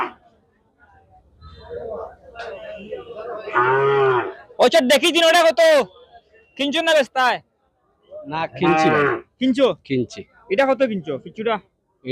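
Cattle low and moo at a busy cattle market in Sylhet ahead of Qurbani, the calls close and loud, mixed with and alternating with people talking nearby.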